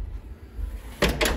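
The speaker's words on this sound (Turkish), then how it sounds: "Asparlı kapı." A hotel fire exit door with a smoke seal at a resort in Antalya swings shut, giving a quiet rustle and then two close thuds near the end, with no talk.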